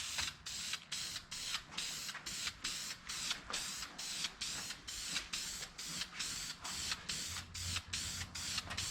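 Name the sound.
spray painting Duplicolor trim and bumper paint onto car sideskirts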